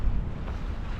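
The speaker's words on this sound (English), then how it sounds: "It's quite windy." Strong wind gusts buffeting the microphone at night in Snowdonia, a low rumbling roar sustained through the whole moment, with no voices.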